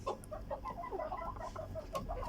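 A small flock of nine hens and a rooster on a farm clucking close by, with a run of short overlapping clucks and soft calls over a low background hum.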